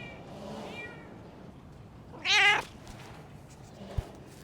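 A cat named Pepper gives one loud, drawn-out meow close by on a farm, preceded by a fainter wavering cry, with wind noise and a light thump behind it.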